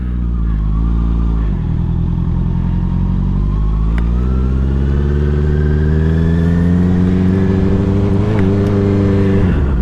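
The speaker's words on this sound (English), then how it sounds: "All right, let's get her going" A 2021 Honda CBR650R motorcycle pulls away, its mid-pitched engine note loud and close, rising steadily through the revs over about ten seconds with a slight dip early on and no one speaking.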